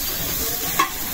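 Taro leaves fry in oil in a pan, giving a steady close hiss with a brief scrape of stirring near the end.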